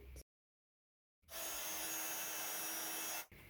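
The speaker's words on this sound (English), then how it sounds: "I'm just going to heat emboss my sentiment onto it" A heat gun melts gold embossing powder on navy cardstock, switching on after a silence into a steady loud whirring blow for about two seconds before cutting off.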